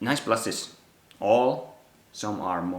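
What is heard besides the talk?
No distinct noise like a dog, phone or traffic.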